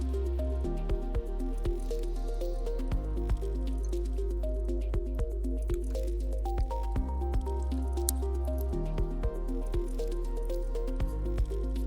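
Water is forced with a syringe through a Sawyer backpacking filter, giving a run of wet drips, squishes and small splashes in a loose, uneven rhythm over a steady tonal hum, close up and with no talk.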